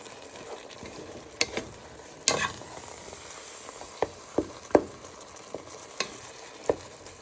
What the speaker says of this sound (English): our mince and spices are nicely cooking